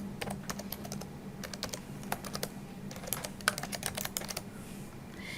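Someone types a username on a computer keyboard to log into a patient-records portal: a quick, light run of close key clicks in short bursts over a low steady hum.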